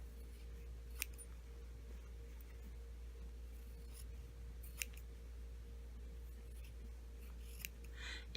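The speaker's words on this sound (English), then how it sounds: "going to trim off our corners diagonally so we don't have overlapping bulk. And then we can trim it down to 1/4 inch" Scissors make a few crisp, isolated snips as fabric corners and seam allowance on a self-lined patch pocket are trimmed, faint and spaced apart over a low steady hum, with a louder rustle at the very end.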